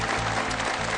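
Applause from an audience at a farmers' gathering reviewing a Mahindra 585 Yuvo Tech Plus 4WD tractor, a dense, steady burst of many hands clapping at close range with no voices.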